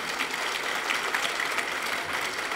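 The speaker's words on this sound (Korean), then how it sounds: "박수로 환영해 주시기 바랍니다" A church congregation gives a soft, even round of applause to welcome people, a steady patter of many hands that lasts under three seconds and sounds somewhat distant.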